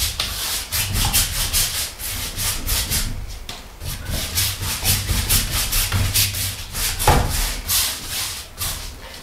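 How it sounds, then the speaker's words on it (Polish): Cotton rag rubbing over a small pastel painting to lift excess oil-resin medium, a steady near scratchy wiping with rhythmic strokes running throughout, no voices. "Nadmiar tego oleju delikatnie zdejmę sobie teraz szmatką jakąś bawełnianą, która mi dobrze wchłonie."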